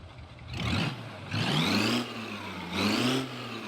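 A Bruckell Nine with a 4-cylinder engine and louder exhaust revs in BeamNG.drive, three rising-and-falling throttle blips over a steady idle, close and fairly loud.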